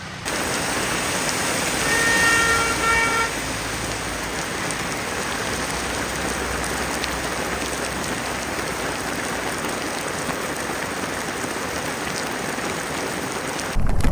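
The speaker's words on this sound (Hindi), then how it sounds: "बारिश हो गई है तेज" Heavy monsoon rain pours down on the NH 66 highway in a steady, dense hiss that barely changes from start to finish.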